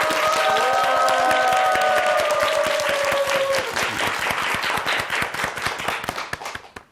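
Dense, loud applause from a Korean TV morning-show studio audience, steady and enthusiastic, with a brief tonal musical sting over the start, then thinning and fading out toward the end.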